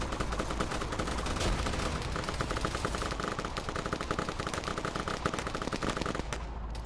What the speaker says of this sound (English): here's gonna be the first firefight.